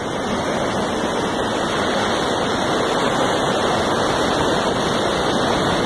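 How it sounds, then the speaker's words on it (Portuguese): Floodwater from a flash flood in a rural area rushes past in a loud, constant roar of dense broadband noise that holds steady without breaks, close and overwhelming. "Olha a força da água que vem lá de cima."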